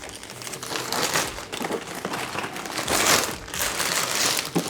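Plastic packaging crinkles and crumples steadily while a Beatbot AquaSense Pro wireless pool cleaner robot is unboxed, a close, continuous rustle with brighter crackling bursts throughout.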